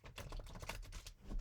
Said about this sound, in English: I hold the deck away from the microphone because it gets really loud when you shuffle.